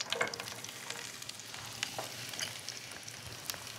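Zucchini frying in a pan with seasoning, a steady soft sizzle with scattered crackles and pops, close and moderately quiet, with no talking.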